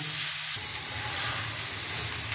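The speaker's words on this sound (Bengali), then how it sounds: "পেঁয়াজ লঙ্কা ভাজা হয়ে গেছে, এর মধ্যে কয়েকটা মশলা দিয়ে দেব।" Onion and chili frying in a pan for a Bengali fish ball curry, just before spices go in: a steady, close sizzle with a soft crackle that runs unbroken, and no voices.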